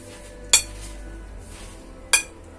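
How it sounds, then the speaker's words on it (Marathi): Two separate hard clinks ring out as a ball of cooked jaggery syrup drops onto a plate, each a sharp bright knock with a short ring, set apart by a quiet pause. "एका प्लेटमध्ये टाकून बघायची टनकन आवाज आला पाहिजे"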